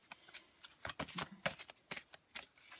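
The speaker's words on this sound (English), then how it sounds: "I'm going to keep shuffling just a minute more." A deck of tarot cards is shuffled by hand at close range, a quiet run of soft riffling flutters and papery slaps in uneven bursts with no talking.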